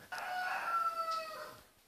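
Roosters crow on a farm, one long drawn-out cock-a-doodle-doo followed by a second fainter crow overlapping at the end, fairly distant against a quiet background.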